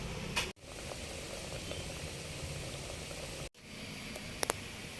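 Okra boils in a cooking pot, giving a quiet, steady bubbling hiss throughout, broken only by a couple of small clicks near the end.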